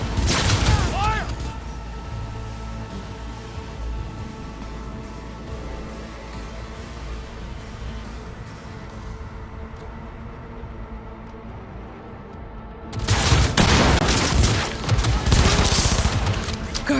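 A video game firefight erupts in loud bursts of rapid gunfire, dense at the start and again near the end, with a calmer stretch of background game sound and speech between.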